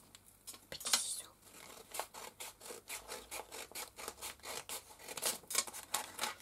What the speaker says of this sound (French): Petit ciseau.